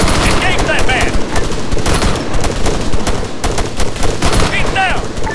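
Rifle and machine gun fire rattles through an Arma 3 firefight, loud rapid bursts and overlapping shots nearly nonstop, with voices shouting over the gunfire.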